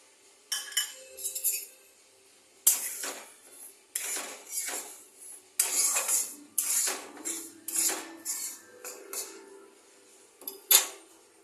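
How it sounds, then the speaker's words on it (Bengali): Semolina dry-roasted in a hot, dry wok for upma, heard as a series of irregular metallic scrapes and clinks of a utensil against the pan. The bursts come repeatedly with short quiet gaps between them, and nobody talks. "গরম হয়ে গেছে, সুজিটা আগে আমি ভেজে নিই"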